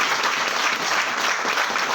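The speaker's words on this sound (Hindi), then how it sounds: "जोरदार ताली।" Loud applause from a devotional satsang audience on Guru Nanak Jayanti morning, a dense, even wash of many hands clapping without pause, close and full for the whole stretch, with no speech over it.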